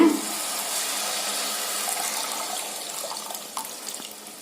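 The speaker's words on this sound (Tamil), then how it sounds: "பெரிய எலுமிச்சம்பழ அளவு கால் லிட்டர் தண்ணியில் கரைச்சி வச்சுருக்குறேங்க அதை இதோட சேர்த்திடலாங்க" Tamarind water poured into simmering curry-leaf kulambu, a steady close pour of liquid into the pot that gradually thins and tapers off toward the end.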